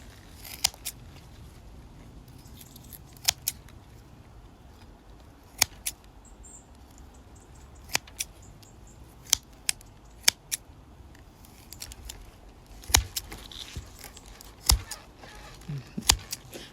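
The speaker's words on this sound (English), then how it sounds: "the rules of the competition are that you have to cut off the roots" Scissors snip off the roots of a giant competition onion in scattered sharp clicks and cuts, irregularly spaced over a quiet background.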